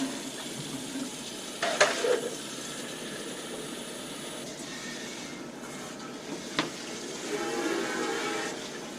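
A pot rinsed under a running kitchen tap while making hot-dish, a soft steady water hiss with a few brief clanks and splashes, close and fairly quiet.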